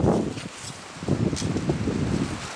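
Cold wind gusts across Lake Inari in Finnish Lapland, a rough, buffeting rush battering the microphone in uneven surges, with no one speaking.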